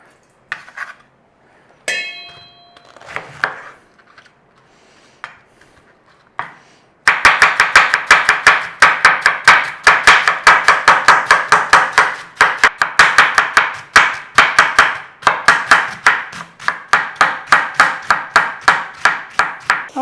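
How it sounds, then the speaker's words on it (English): A knife slicing through red cabbage on a cutting board: after a few scattered cuts, a rapid, steady run of loud crisp chops continues close up for over ten seconds. "Now, you don't have to be neat or anything. We just want to slice it up."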